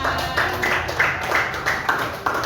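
Children in a classroom coding lesson clapping their hands while seated, a steady rhythmic run of claps at an even pace, fairly close and loud in a reverberant room.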